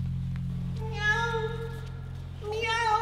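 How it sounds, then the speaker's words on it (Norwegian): Two drawn-out cat meows sound close and clear, one after the other, over a constant low electrical hum. "Det var katten."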